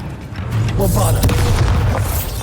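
Bombarda blasting spell going off in the Hogwarts Legacy video game, a deep booming explosion with a rumbling tail lasting a couple of seconds, close and loud, with a voice shouting over it.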